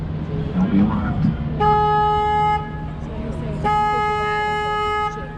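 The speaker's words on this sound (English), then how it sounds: "I have to honk the horn" A San Antonio River tour boat sounds its horn in two steady, loud, buzzy blasts, the second longer, while someone talks nearby.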